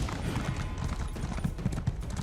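Horse hooves clip-clop at a steady, brisk rhythm in the game Elder Scrolls Online, close and continuous for a couple of seconds with heavy low thuds on each step.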